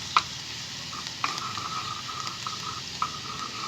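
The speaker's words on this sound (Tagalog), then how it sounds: "So, lagyan natin ating bawang guys." Garlic sautés in a pan, a soft steady sizzle with a few light scraping stirs and taps, faint and close.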